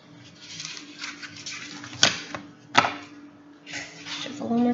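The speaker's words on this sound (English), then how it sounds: "I'm going to shuffle one more time." Tarot cards are shuffled close by in soft riffling bursts, with two sharper snaps midway. The sound is faint and low, and a slight background hum runs throughout.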